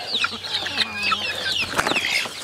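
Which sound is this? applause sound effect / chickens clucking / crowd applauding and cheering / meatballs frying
chickens clucking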